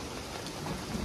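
Large hailstones pelt down in a storm, sheltered in an abandoned building, giving a steady dense patter like heavy rain with a low rumble, fairly loud and without any talk.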